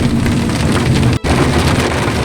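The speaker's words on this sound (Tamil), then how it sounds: "இங்கேயும் ஹெவியாக மழை பிடிச்சிருச்சுங்க" Heavy rain pours during a road trip near Athirappilly, a loud, continuous wash of noise with a brief sharp dropout midway, and no voices heard.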